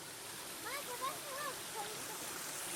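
Water runs from a spring spout in Carlos Botelho state park, a steady soft rushing splash, with faint high bird chirps above it.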